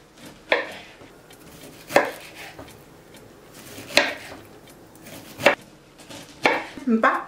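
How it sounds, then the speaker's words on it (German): A knife cutting fresh pineapple into thin slices on a cutting board for an upside-down caramelized pineapple cake, six crisp chopping strikes spaced about a second or more apart, close and distinct with faint background between cuts. "Ich schneide das in dünne Scheiben."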